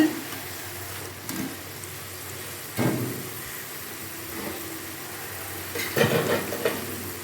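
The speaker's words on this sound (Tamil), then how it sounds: "நம்ம ஒவ்வொரு பேட்சை வந்து ஃப்ரை பண்ணி எடுத்துக்கலாம்." Batter-coated cauliflower pieces for gobi Manchurian deep-frying in hot oil, a steady low sizzle broken by a few louder bursts as pieces are stirred or dropped in.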